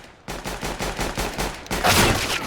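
Rapid gunfire in Counter-Strike, about a dozen evenly spaced shots in quick succession followed by a louder sustained burst of fire.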